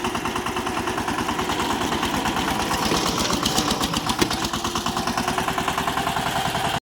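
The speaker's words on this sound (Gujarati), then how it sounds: "અહીંયા ટ્રેક્ટર કેન્ડાથી બહાર કાઢી લીધો" A tractor engine runs in a field being prepared for rice sowing, a loud, close, rhythmic thumping chug that holds steady throughout before cutting off abruptly at the end.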